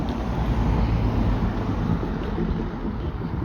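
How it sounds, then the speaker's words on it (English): Wind buffets a phone's microphone at a level crossing, a constant low rumbling roar that stays loud and close for the whole stretch, with no voices. "it's windy on this side, so the audio is not going to be as good"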